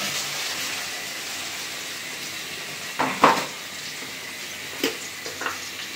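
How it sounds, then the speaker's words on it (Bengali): Water splashed into a pan of fried onions, garlic and green chillies, a low steady sizzle with a short burst of hissing and clatter partway through, then a few lighter knocks. "এখন দিয়ে দিব সামান্য একটু পানি মশলা দেওয়ার জন্য"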